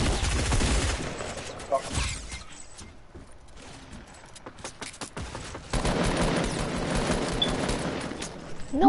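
Sustained gunfire from an online shooter game crackles in dense, loud bursts, easing briefly in the middle before a renewed heavy volley.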